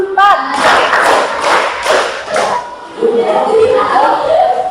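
A classroom group of students claps together in a counting clap game, giving a few loud, sharp bursts in quick succession, followed by a voice talking.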